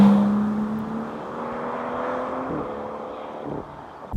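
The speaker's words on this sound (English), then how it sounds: "Now, the way this car accelerates is unlike anything I've ever driven." A BMW M760Li flagship sedan accelerating, its engine a steady close drone with a tone that rises, then a gear change around midway and a continued pull, heard from inside the car with no talking.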